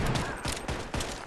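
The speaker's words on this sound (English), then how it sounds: "I didn't think gunshots could knock you into the stratosphere" Several rapid gunshots from the game Farworld Pioneers crack in quick succession, loud and close, forming a brief burst of fire.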